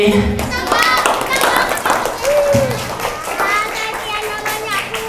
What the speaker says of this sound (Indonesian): Boleh tepuk tangan untuk Gatot Kaca.